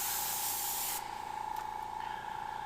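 Close airbrush spraying, a strong airy hiss that drops to a softer spray after a second, with a steady compressor hum underneath.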